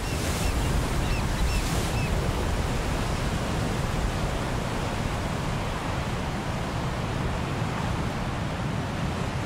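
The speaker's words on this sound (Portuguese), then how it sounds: "onde as ondas quebram numa costa rochosa e resistente" Ocean waves break steadily on a rugged, rocky coast, a continuous loud wash of surf with wind, with no voices.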